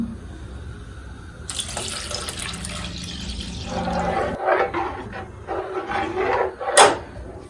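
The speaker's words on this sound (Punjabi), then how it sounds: "ਕੜੀ ਦੇ ਵਿੱਚ ਆਪਾਂ ਪਾਣੀ ਪਾਤਾ" Water is poured into kadhi for kadhi pakora, a splashing, gurgling stream starting after a quiet moment and continuing with uneven surges and a sharp clatter near the end.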